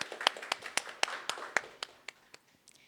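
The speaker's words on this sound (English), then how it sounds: "we should give them a round of applause" Sparse, scattered handclaps from a small audience at an academic bursary award ceremony, about a dozen distinct claps spread unevenly over a few seconds, fairly quiet and thinning out toward the end.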